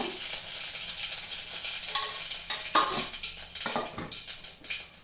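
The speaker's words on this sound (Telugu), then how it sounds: "ఆవాలు వేసాను కొంచెం జీలకర" Mustard seeds and cumin sizzle steadily in hot oil in a pan. Sharp pops and crackles break through the continuous frying hiss, and a few utensil scrapes and clinks are heard close by.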